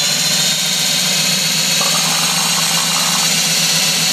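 BMW S38 engine from an E34 M5 running during an oil pump test, a loud steady close mechanical drone with a brief change in tone partway through and no talk.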